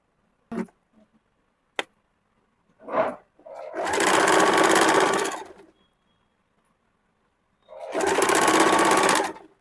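A sewing machine stitches down a kurti seam in two long steady runs of about three and two seconds, loud and close, with a few short clicks and handling noises before the first run.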